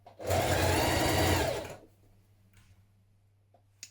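A sewing machine stitches hoodie pockets in place in one loud, steady run of about a second and a half, then stops, leaving faint room noise and small clicks.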